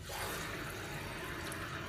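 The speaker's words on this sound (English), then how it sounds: "Look how I flush my toilet." A toilet flushes in the video game Cyberpunk, giving a short burst of rushing, gurgling water that stays steady and close for a couple of seconds with no talking.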